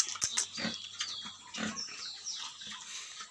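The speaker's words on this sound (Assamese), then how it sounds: "ইয়াতে গাহৰিকেইজনী চাওকচোন," Pigs on an Assamese pig farm grunt and squeal in short, close bursts, with a steady low hum behind them and some rustling and shuffling between the calls.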